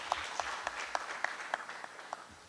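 A conference audience greets a speaker with faint, sparse applause: a handful of evenly spaced claps heard at a distance in a quiet hall.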